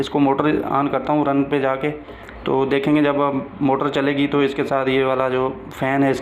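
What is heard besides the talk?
No distinct noise like a dog, phone or traffic.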